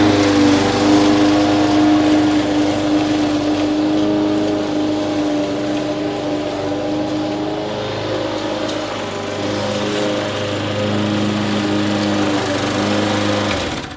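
A lawnmower runs steadily on a lawn while collecting up thatch, its engine a constant close drone with a strong hum and no pauses throughout.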